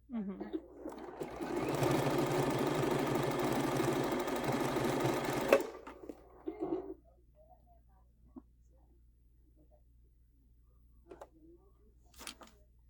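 A sewing machine runs in one steady burst of about four seconds while stitching a quilt-as-you-go table runner at a mitered corner, then stops, leaving faint handling sounds and a quiet voice.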